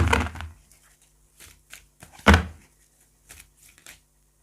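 Oracle cards being shuffled and drawn during a Hindi tarot reading, heard as scattered soft papery riffles and taps with one louder card snap midway, close and fairly quiet, with no talking.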